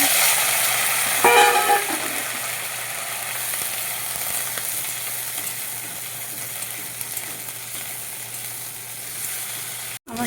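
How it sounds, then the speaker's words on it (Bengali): Vegetables fry in ghee with cumin, dried chili and bay leaf in a wok, a loud, steady sizzle running continuously with a brief stirring rattle near the start. "আমার সবজিগুলো লাল করে ভাজা হয়ে গেছে, লাল লাল হয়ে গেছে।"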